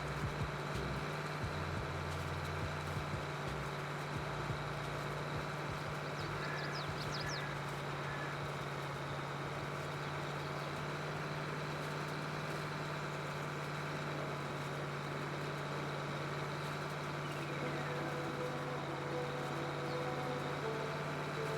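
An articulated tractor engine idles and runs steadily while making hay, a constant low hum with a strong low drone throughout, moderately loud and without voices.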